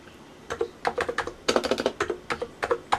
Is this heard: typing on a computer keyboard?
yes